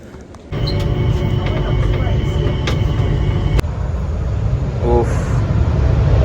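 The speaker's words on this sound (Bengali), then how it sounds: "চলুন স্কাই ট্রেনটা ধরি।" Changi Airport Skytrain in Singapore, an automated airport people-mover, heard from inside as a loud, steady rumbling hum with a faint tonal whine that holds throughout after starting abruptly.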